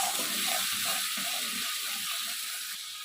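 Masala paste seasoned with salt, turmeric and a little sugar sizzles steadily in a pan for egg curry, a continuous close frying hiss with faint scraping as it is stirred.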